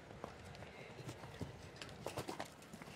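Hooves of a show-jumping horse thud rhythmically on the turf during a derby round at La Baule, the galloping beats blended into steady crowd and outdoor noise.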